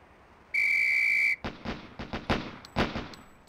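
A single steady whistle blast lasting close to a second starts a police firing drill, followed at once by a rapid string of sharp gunshots in quick pairs and bursts at close range.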